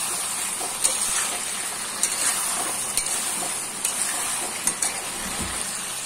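Potatoes frying with meat and spices in a pan, a steady close sizzle with occasional clinks and scrapes of stirring throughout, no voices.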